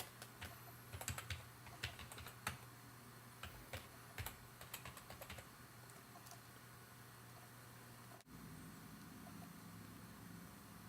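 Quick clicking keystrokes on a computer keyboard as a username and password are entered, a close run of taps over a low steady hum, then only the hum continues after a brief cut.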